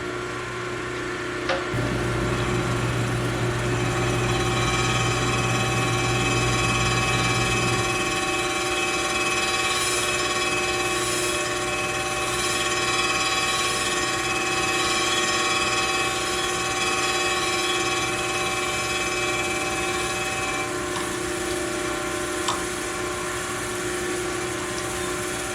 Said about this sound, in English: We're going to do what's called a plunge grind.